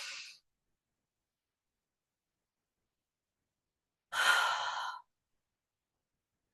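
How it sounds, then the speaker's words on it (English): Two slow, deep breaths in a guided relaxation session, one breath ending at the start and a clear, fairly close inhalation later, separated by silence. "Deep breath in."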